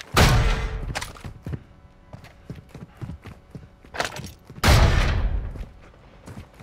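Gunfire in an online battle game near a castle: two loud blasts at the start and near the middle, with quick sharp shots and clattering knocks in between, and no speech.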